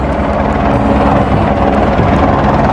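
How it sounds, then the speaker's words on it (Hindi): A helicopter roars loudly and steadily nearby at the Kedarnath helipad, its engine drone and rotor thrum filling the air with no pauses. "और देखिए मेरे पीछे हेलीकॉप्टर"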